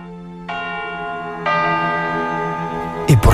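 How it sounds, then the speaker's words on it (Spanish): Church bells ring out clearly with long sustained tones, a second bell joining partway through and adding to the resonant, layered chime, with a brief louder knock near the end. "Estas campanas que estamos ahora mismo oyendo"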